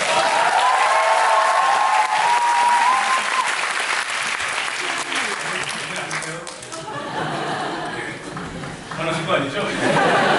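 Audience applause at the final Seoul curtain call of the musical 'Brothers Were Brave': loud, sustained clapping from a large crowd with some chuckles, tapering slightly toward the end.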